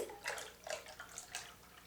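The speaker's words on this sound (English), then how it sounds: "And then in with the lye water." Lye water is poured into a batch of foaming tallow soap mixture, a soft, uneven splashing trickle with a few quiet gurgling surges, faint and close, with no talk.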